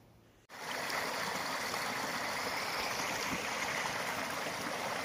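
A forest stream flows through a shaded Finnish woodland along a trail in Jurva, Kurikka, a steady, full rushing babble that starts abruptly and continues evenly, close and fairly loud.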